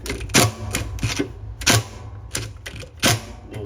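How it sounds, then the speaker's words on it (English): Metal bolt being threaded back into the agitator of a Whirlpool Kenmore washing machine, a series of sharp, close clicking and ratcheting taps in irregular bursts, loud and with no talking. "Now I'm going to put the bolt back in there. Spin slowly so it looks like it's going in there right."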